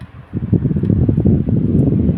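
Small portable battery-powered fan running at high speed, a loud close whirring hum with fluttering airflow that rises after a brief start and holds steady.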